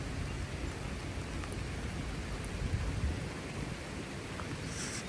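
Rain sounds on a car driving across the Mississippi River, a steady wash of hiss and rumble with a brief swell in the middle and no speech.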